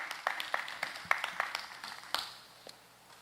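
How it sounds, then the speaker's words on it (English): An audience at a secondary schools spelling bee clapping for the contestants, a brief burst of scattered applause from a modest crowd that fades out after a couple of seconds. "Let's give a round of applause to our contestants this morning."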